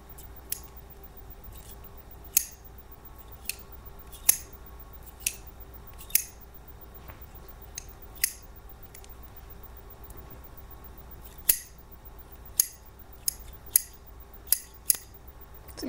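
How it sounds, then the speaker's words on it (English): Small standard sewing scissors with decorative handles are handled and snipped in a quiet room, giving sharp, separate metallic clicks and snips at irregular intervals over a faint hiss, with no talking. "Here's some more standard, but still small scissors with really cool handles."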